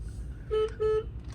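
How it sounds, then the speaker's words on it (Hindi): A Tata car's horn sounds twice in quick succession, two short steady single-tone blasts, near and clear against low background rumble. "सिंगल हॉर्न बज रहा है इसका"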